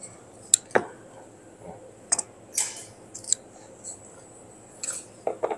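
Scissors snip tape on a TIG welding torch during a switch replacement, giving several sharp, close clicks and cuts scattered irregularly through otherwise quiet surroundings.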